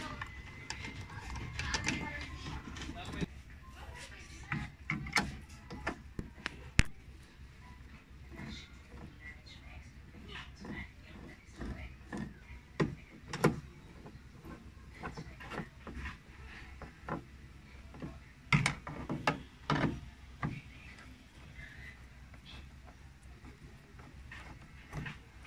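A socket wrench tightens screws on the side mirror of a Suzuki Every Wagon DA64W, giving close irregular ratcheting clicks and metallic taps over a low background hum, with no talking.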